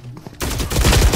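Phantom rifle from Valorant firing in a rapid automatic burst while the player runs, loud and close, with dense repeated shots filling the second half after a brief quieter start.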